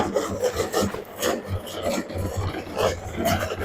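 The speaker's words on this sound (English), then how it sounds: "The cart ever loud on the asphalt there." A shopping cart rolls loudly over asphalt outside a store, giving a continuous gritty rattling rumble with uneven bumps, close and alone without talk.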